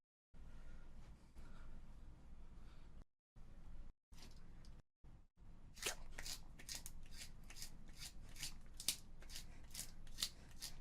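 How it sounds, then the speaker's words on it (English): A rapid series of sharp scraping and grinding bursts of a pencil being sharpened, close and fairly quiet, with brief gaps early on before a steady rhythmic run. "World record pencil sharpening."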